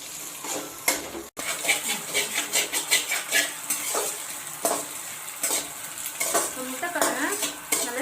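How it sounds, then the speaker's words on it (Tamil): Egg sizzles and fries with rice in a pan while a utensil stirs and scrapes against the metal in repeated strokes, moderately close with no talking. "முட்டை பாருங்க நல்லா ஃப்ரை பண்ணியாச்சு."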